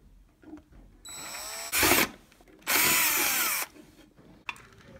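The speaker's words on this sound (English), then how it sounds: "I'll drill a hole and then maybe cut it." Power drill bores a hole through a thin metal Altoids tin in two loud, close bursts of whining and grinding, separated by a short pause and quieter handling sounds.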